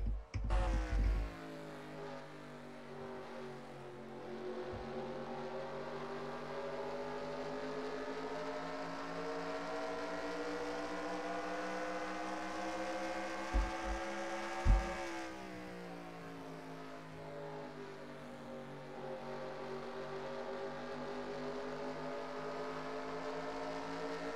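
Onboard race car engines in a racing video game drone steadily at high revs through laps, with a gradual pitch rise and a brief shift or change midway, continuous and without talk.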